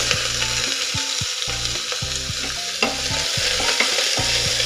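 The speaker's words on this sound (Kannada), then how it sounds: "ನೋಡಿ, ಸಾಸಿವೆ ಮತ್ತು ಜೀರಿಗೆ ಚಟಪಟ ಅಂತಿದೆ." Mustard seeds, cumin, onion and curry leaves fry in hot oil with a steady close sizzle, broken by repeated stirring scrapes and low clunks of a spoon against the pan; no voices.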